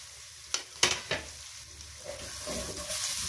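Half an onion frying in ghee for a Pakistani-style moong dal gives a soft, steady sizzle, broken early by a few sharp clinks and knocks of a spoon against the pan.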